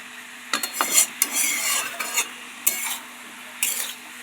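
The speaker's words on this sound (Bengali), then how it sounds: "মশলাটা দিয়ে ভালো করে যখন নাড়াচাড়া করে নেওয়া হচ্ছে" A spoon stirs bottle gourd and shrimp curry with spices in a pan, with repeated scraping strokes and clinks against the metal over a faint sizzle, close up and with no voices.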